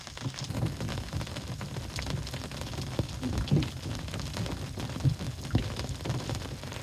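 Heavy hail and rain pound down steadily at Tin Can Bay, a dense, continuous roar of drumming impacts with a few louder hits standing out, no voices.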